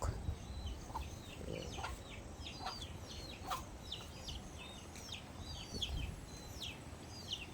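Chickens cluck and call softly at a distance over a rumbling, noisy outdoor background, with a brief spoken word.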